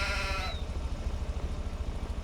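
A sheep on a snowy farm gives one clear bleat at the start, followed by a low, rumbling background hum with no voices.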